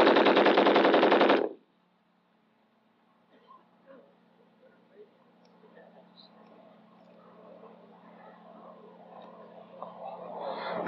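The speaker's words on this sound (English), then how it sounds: "This is we think is one of the best machine guns in the world." A tripod-mounted machine gun firing about 650 rounds a minute at weapons training unleashes a loud, steady, unbroken burst for just over a second, then stops abruptly into near silence with faint outdoor rustling afterward.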